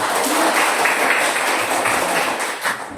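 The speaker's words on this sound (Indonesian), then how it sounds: "Tepuk tangan dulu Anissa." A classroom group applauds a student after a relay race, a dense, even wash of clapping that holds steady for a few seconds before tapering slightly.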